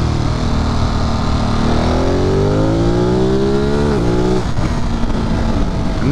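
A video game motorcycle engine revving hard and accelerating through rising gears, loud and close, with a brief dip at a shift before pulling again.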